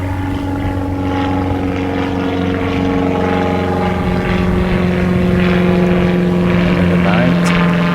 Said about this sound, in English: Noisy planes.